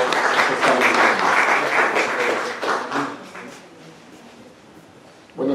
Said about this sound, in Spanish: Démosle un fuerte aplauso al doctor Bernardo por su presencia